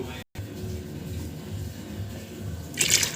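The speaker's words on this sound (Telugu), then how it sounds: "ఇప్పుడు ఒక గ్లాసు వాటర్ పోసుకోండి" Water from a glass is poured into a Nellore-style tamarind curry in a pan, heard as low, quiet liquid sloshing that ends in a brief, bright splash.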